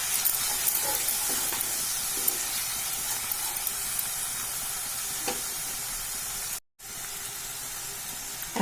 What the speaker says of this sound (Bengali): আবার কষিয়ে নেব।